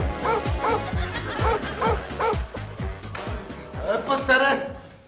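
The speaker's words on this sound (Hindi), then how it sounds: "कितना वैशी कुत्ता है तुम्हारा" A dog barks and yaps repeatedly in a steady rhythm, close and loud, with whimpering in between, in a comedy drama scene. People talk and laugh over the barking.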